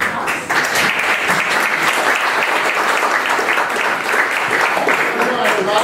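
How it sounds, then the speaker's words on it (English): Audience applause at a 1 Million Cups startup pitch event in downtown St. Pete: a dense, loud, sustained clapping from a full room that carries steadily throughout. "So please give him a warm round of applause."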